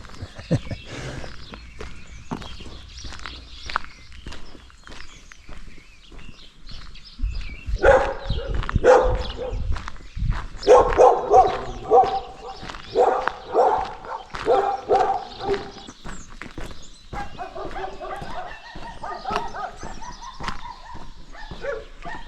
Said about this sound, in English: there's a lot of dogs up there.